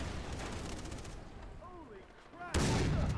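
Gunfire in the video game Far Cry 3 cracks out in bursts, some distant and some near, and a loud blast sounds toward the end, while someone talks over the action.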